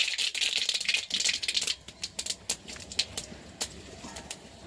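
Mustard seeds, panch phoron and dried red chillies spluttering in hot oil, a dense crackle of sharp pops that starts thick and busy, then thins to scattered, irregular snaps and sputters.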